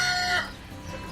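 A pet quail gives a short, shrill call near the start, a high piercing note that fades quickly into quiet room noise, followed by a tiny chirp at the end.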